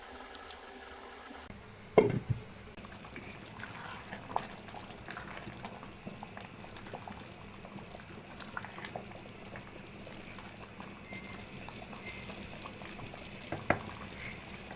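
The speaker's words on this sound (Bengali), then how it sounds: "এখন আমি একটু গরম পানি দিয়ে দিব।" Hot water is poured into a pan of beef liver bhuna, followed by a continuous low bubbling simmer with occasional faint knocks, close and steady with no talk.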